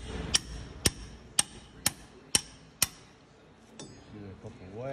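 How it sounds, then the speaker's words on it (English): Wrench working on the bolts of a Toyota Tacoma 4WD front wheel hub, six sharp metallic clacks in an even rhythm about half a second apart, then quieter ringing and scraping, close and crisp, with no speech. "Can't get much in there, so the wrench is about all you've got."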